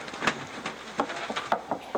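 Several quick wooden knocks sound on hollow boards inside a replica ark, in an uneven close-up patter over a faint background hiss.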